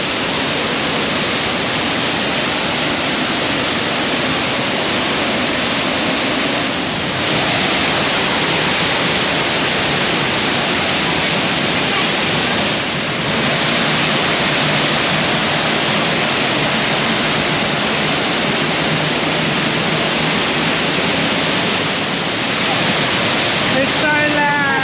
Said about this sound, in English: Your first waterfall, Heaty boy.